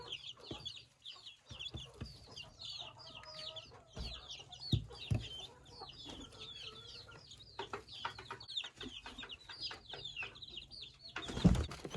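Local chicks in a covered brooding box give constant high peeping and soft chirps. Occasional low clucks and faint shuffles sit underneath, with a brief louder rustle near the end.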